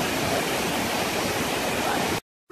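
A waterfall in Bali roars with steady, loud rushing water from close range, a dense continuous wash that cuts off abruptly near the end.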